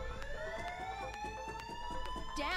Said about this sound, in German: Habt ihr hier einen Panikbutton drin oder woher kam jetzt der Alarm?